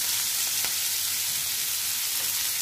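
Fourteen kinds of chopped leafy greens hit a hot pan, setting off a loud, steady, close sizzle that fills the whole moment without pause.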